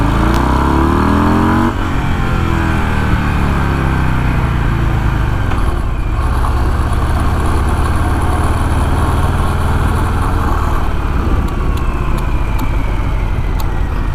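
A Harley-Davidson Breakout 117 motorcycle accelerates hard in first gear, its engine note climbing steadily and then settling into a loud, sustained roar heard close up, with wind noise.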